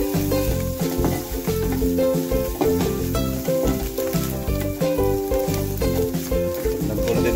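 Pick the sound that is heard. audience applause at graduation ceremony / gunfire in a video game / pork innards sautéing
pork innards sautéing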